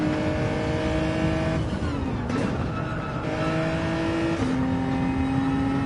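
A race car engine in a racing video game revs and accelerates through gear changes, a loud steady whine stepping up in pitch with brief dips between shifts.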